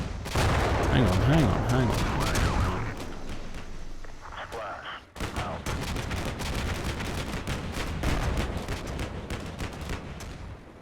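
Rapid bursts of small-arms and machine-gun fire crackle through a Combat Mission Black Sea battle, sharp repeated cracks in clusters, with someone talking briefly over the shooting.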